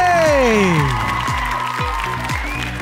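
An audience claps for the first couple, the Srinivas Prasad pair, at a Bangarada Jodi couples event in Davanagere. The steady applause runs the full clip beneath a speaking voice.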